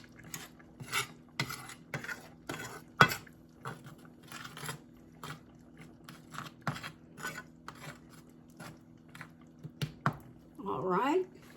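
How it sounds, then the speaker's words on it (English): Flour seasoned with salt and pepper is stirred with a utensil in a dish before coating pork chops, giving soft, irregular scraping taps and clinks, close and quiet, with a person talking between the strokes. "Let me kind of stir that around."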